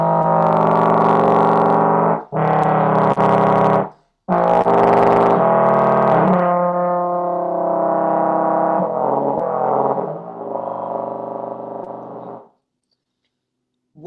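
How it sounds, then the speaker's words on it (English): A brass instrument sustains a buzzing split tone, two adjacent partials sounding together with a rough, distorted edge, played loud and close in several long phrases with brief gaps. "What split tones are a simultaneous buzzing of two adjacent partials in the partial series."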